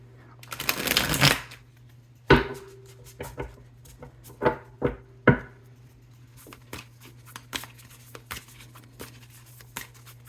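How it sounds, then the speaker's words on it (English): Tarot cards are riffled in a long rustling burst, then slapped and shuffled in several short crisp bursts with quiet gaps between them. "let's do a little bit more of a shuffle"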